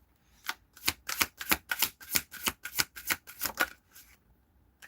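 Tarot cards are riffled in a quick run of about a dozen crisp, papery snaps, close and clear, then a pause and a final single flick.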